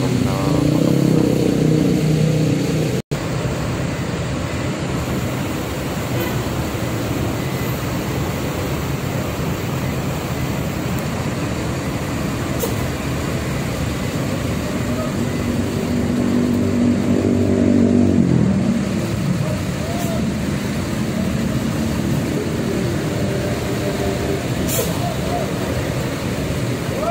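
A bus engine rumbles and idles nearby amid steady traffic noise as it arrives at Pondok Pinang bus terminal, with a brief louder swell around the middle and a sharp click near the start.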